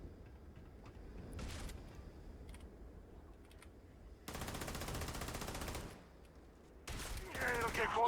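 Rapid automatic gunfire rattles in the video game Starfield, two sustained bursts of fast repeated shots, moderately loud, with faint voices and background noise between them.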